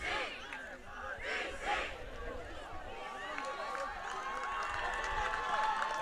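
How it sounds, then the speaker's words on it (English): Spectators at a junior open ultimate frisbee game chant rhythmically in unison from a distance, the crowd noise rising gradually under a busy, echoing field atmosphere. "You can hear the crowd chanting BC, BC."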